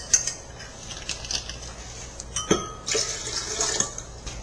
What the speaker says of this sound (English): I'm going to put in 4 ounces of orange juice, 3 ounces of white vinegar,